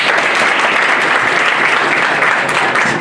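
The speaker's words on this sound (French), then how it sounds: "Un tonnerre d'applaudissements pour vous-même." Loud, dense applause from a crowd at a community health week event run by a health association, sustained and even throughout with no break.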